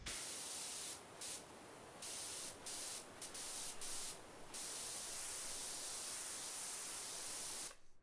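A spray nozzle blasts water while cleaning a gondola, a steady loud hiss running nearly the whole time with brief dips where the spray pauses or shifts, then cutting off at the end.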